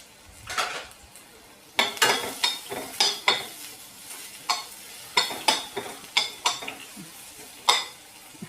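Turmeric and salt sizzling in a pan for a bottle gourd dal, with a run of sharp spoon clinks and scrapes against the metal pan over a soft frying hiss, close and moderately loud.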